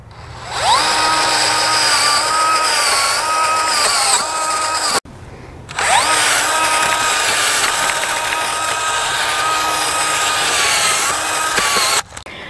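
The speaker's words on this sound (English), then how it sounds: "I've got the hole drilled as far as I'm going to drill it" A cordless drill augering a hole in garden soil whines steadily at high speed, pausing briefly midway and starting again, running loud and close with a slight grinding strain.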